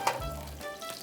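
Sausages frying in hot oil in a pan over a strong flame, a steady close sizzle with crackling bursts through the whole short moment.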